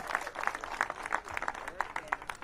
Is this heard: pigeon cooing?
no